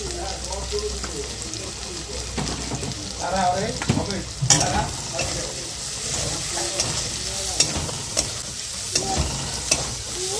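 Cumin, turmeric and chili powder spices sautéing in a pan, with a steady sizzle, frequent scraping stirs and clinks throughout, and a faint voice under the cooking noise.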